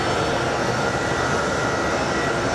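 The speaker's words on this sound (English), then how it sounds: "our next plane that is going to be arriving is an Advanced Air Beech B300 Super King" An Advanced Air Beech B300 Super King Air turboprop arrives at Sky Harbor International Airport. Its engines make a loud, steady broadband roar that holds level throughout, with no speech.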